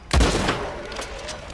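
A single loud gunshot rings out in Red Dead Redemption 2, close and booming, then trails off into a long rolling echo as if across open wilderness.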